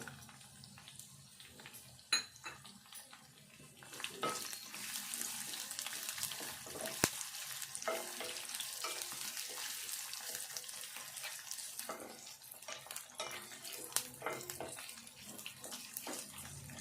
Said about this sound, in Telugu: ఉల్లిపాయ ఇదంతా కూడా మంచిగా దోరగా వేగాలి